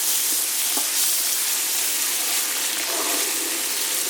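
Butter being added and stirred into caramel cooking on an induction hob with a wooden spoon: a steady, close bubbling sizzle with faint scraping and light knocks.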